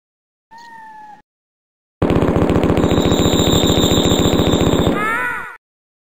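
An Uzi 9mm in the 1995 first-person shooter Mortal Coil fires one long, rapid, loud automatic burst lasting about three seconds, preceded by a short synthetic tone and ending in a brief ringing tail.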